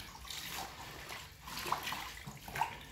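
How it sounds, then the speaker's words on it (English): Freshly harvested collard greens rinsed under running water, a soft steady splashing and trickling with faint drips and leaf handling, fairly quiet and close. "Make sure you get a good washing of them."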